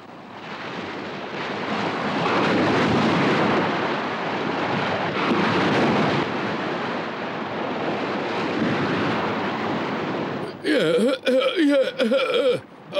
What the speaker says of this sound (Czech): Náhle se strhla prudká bouře a spustil se déšť